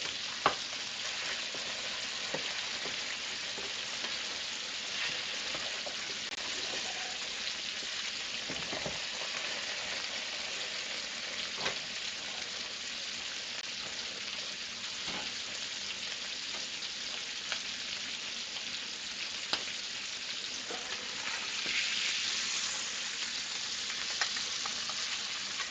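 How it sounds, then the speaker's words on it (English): Potatoes fry in a hot pan with a dense, steady sizzle throughout, broken by occasional scraping and clinking as they are stirred, close and continuous without any voices. "I'm going to stir my potatoes."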